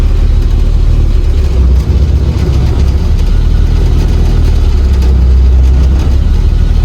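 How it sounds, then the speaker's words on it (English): A Suzuki Samurai engine runs while warming up, a loud, steady low idle with a rough mechanical rumble and slight fluctuations in pitch, heard close and alone without any talk. "So let's start up the car and make the engine warm."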